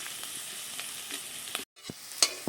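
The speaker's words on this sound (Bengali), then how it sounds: "এবারে এখানে দিয়ে দিচ্ছি স্বাদ মতো লবণ, হলুদ, সামান্য একটু লঙ্কার গুঁড়ো," Small fish frying in oil in a pan as salt, turmeric and chili powder go in, a soft steady sizzle with a few stirring scrapes and a brief break, no talk.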